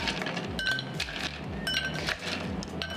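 Ice dropping into a drinking glass at a restaurant bar, a few bright clinks and clatters up close, quick and glassy, with no voices.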